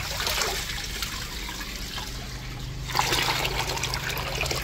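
Water trickles steadily into a container as it fills, a continuous close splashing flow that grows slightly louder partway through, with no talking.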